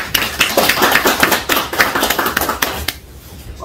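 Clapping from a small audience at a farming talk event, a few close, distinct hand claps in an uneven rhythm that stop abruptly near the end.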